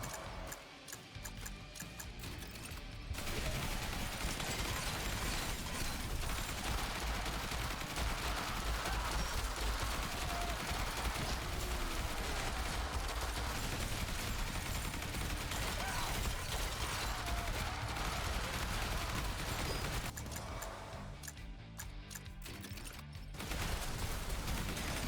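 Sustained rapid assault rifle fire in the zombie survival game Yet Another Zombie Survivors, a dense continuous burst of loud shots running for about twenty seconds with quieter stretches at the start and end.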